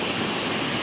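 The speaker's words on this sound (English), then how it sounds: "This is the topmost part of the waterfall" A natural waterfall heard from its very top, a dense, steady roar of rushing water that fills the air at close range with no voices.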